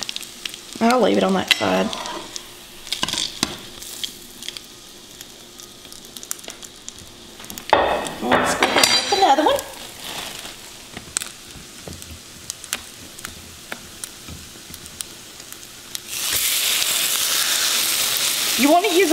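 French toast fries in butter in a skillet, with soft sizzling broken by scraping and flipping sounds, a short spoken line, and a steady loud sizzle near the end.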